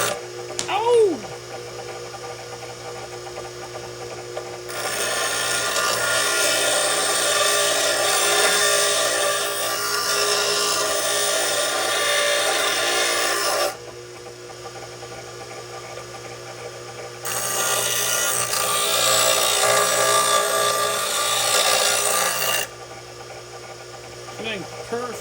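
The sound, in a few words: grinder cleaning up steel stiffener plate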